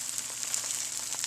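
Veal brains frying in oil in a pan over medium heat, giving a steady bright sizzle and crackle throughout, close and continuous, with no talking.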